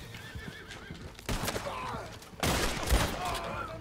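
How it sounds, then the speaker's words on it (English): A horse in the Red Dead Redemption 2 game neighs loudly in a sharp whinny, joined by hoof clip-clop and a burst of gunfire close by. "Come here, horse."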